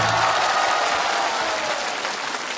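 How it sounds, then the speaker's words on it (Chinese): A studio audience at a Chinese TV quiz show bursts into sustained, loud applause, a thick wash of clapping that holds steady for a few seconds with a faint voice at the start. "再次掌声欢迎现场和所有电视机前朋友们，欢迎大家。"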